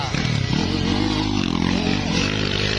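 A small 85cc motorcycle engine revs hard and steadily, a loud buzzing drone with a rising pitch that holds close and continuous throughout.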